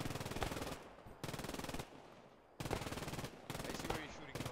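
Machine gun fire in a first-person shooter, Operation Grenade, rattles in long sustained bursts of rapid evenly spaced shots, loud and close, separated by brief pauses.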